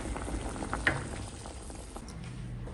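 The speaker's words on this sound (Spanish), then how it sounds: "Vamos a ponerlos en agua y cuando ves que ya están en hervor y cambian de color los vamos a apagar." Tomatoes and serrano chiles boiling in a pot of water, a steady soft bubbling and popping, quiet and continuous with no voices.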